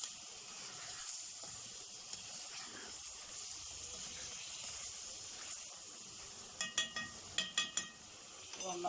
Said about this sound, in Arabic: هنشوحهم كده تشويحه بسيطه